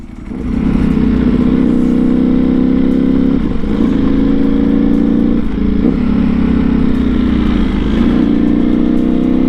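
Onboard sound of a Ducati V4 SP motorcycle fitted with an SC Project full titanium exhaust, riding toward a tunnel in Santa Monica: a loud, steady engine drone with brief dips during gear shifts, with no talk.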